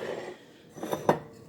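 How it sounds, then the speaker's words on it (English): A bowl grabbed for mixing a broccoli and cheese casserole, heard as a couple of faint, quick ceramic knocks and clinks near the end, preceded by soft handling noise. "So let me grab a bowl"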